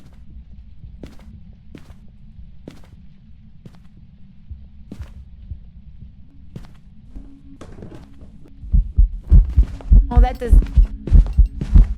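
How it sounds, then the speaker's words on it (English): Loud, thumping heartbeat from the Phasmophobia ghost-hunting game, a steady low pulse that swells and grows much louder toward the end, with brief talk over it. "Oh, the heartbeat gives it away. The heartbeat is so loud."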